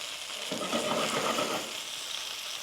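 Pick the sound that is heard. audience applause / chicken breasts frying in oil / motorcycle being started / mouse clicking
chicken breasts frying in oil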